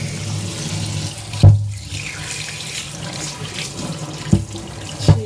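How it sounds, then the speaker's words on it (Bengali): Tap water runs steadily over a stone grinding slab (sil) as it is washed, a constant splashing hiss broken by a few dull knocks of stone being handled. "এদিকে শিলটা একটু ধুয়ে নিই।"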